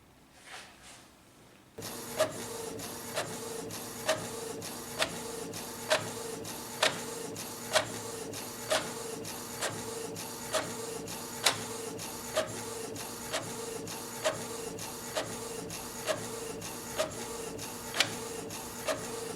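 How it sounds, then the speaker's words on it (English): After a quiet start, an inkjet printer prints a page steadily, using a cartridge refilled with a different color ink, with a regular clacking pulse roughly every second over a continuous mechanical whir. "I start to print."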